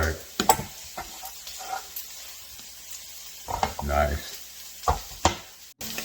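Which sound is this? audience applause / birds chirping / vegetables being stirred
vegetables being stirred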